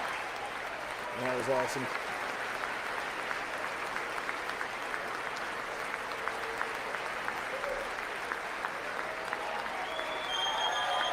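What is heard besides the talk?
applause in Congress at State of the Union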